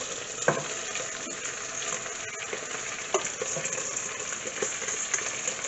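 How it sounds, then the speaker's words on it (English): Long grain basmati rice frying with seasonings in a pot gives a dense, steady sizzle with occasional crackles and stirring scrapes, close and continuous throughout. "we'll make sure the rice is coated with all the seasonings that are frying up in there"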